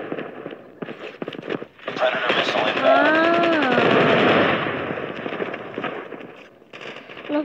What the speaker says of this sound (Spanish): Grenade out. Ok, ya tiré la bomba, me voy antes que me mate.